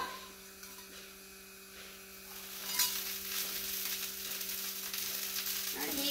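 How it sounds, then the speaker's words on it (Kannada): Oil heating on a hot stone griddle for brinjal dosa, a steady hiss of sizzling that swells a little partway through, close and continuous with no voices. "ಕಲ್ಲಿಗೆ ಒಂಚೂರು ಎಣ್ಣೆ ಹಾಕುವ,"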